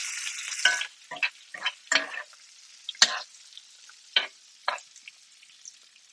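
Food, including duck wings, is tossed in a pan of hot oil with a spoon, producing a series of sharp, bright sizzling bursts, around eight irregular surges of frying and stirring separated by quieter gaps, with no voices.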